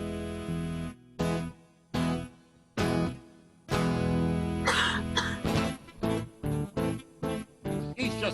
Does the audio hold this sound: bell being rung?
no